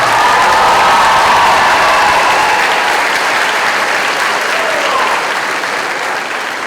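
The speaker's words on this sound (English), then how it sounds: "Margaret Walter, and Sarah Wing, if you'll give them a round of applause, please" Sustained loud applause from a high school spring concert audience, dense and continuous, slowly tapering toward the end.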